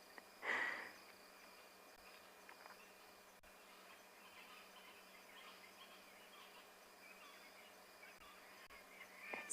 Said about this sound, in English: There is a wealth of birds calling. A proper dusk chorus.